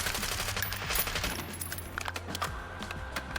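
GPR rifle in Warzone firing at a dummy 50 meters away, a fast, sharp burst of repeated close shots with bright clicking transients and a low thump beneath, loud and unbroken by speech.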